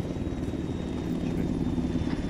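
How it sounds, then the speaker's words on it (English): A Black Hawk helicopter in the Arma 3 video game produces a steady, low rotor rumble that drones continuously as it approaches. "just chopper's about to come back in"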